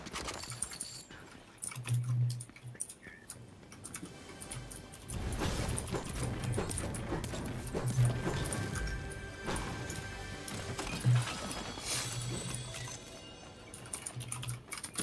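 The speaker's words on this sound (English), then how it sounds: "It actually kind of sounds nice. Yeah. I like this keyboard. Blue switches?" A mechanical keyboard with blue switches clatters in quick, crisp bursts of keystrokes during a Fortnite session, moderately close, with a few people talking faintly.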